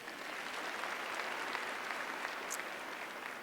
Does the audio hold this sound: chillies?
no